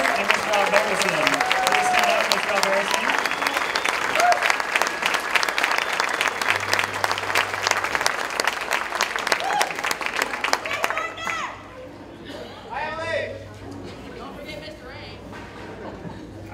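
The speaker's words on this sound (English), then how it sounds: "Round of applause for Mr. Sybil, Mr. Gardner, and Mr. Alberson." A school jazz concert audience applauds band directors with sustained, full clapping mixed with crowd chatter, then the applause thins and fades into scattered claps and murmuring voices.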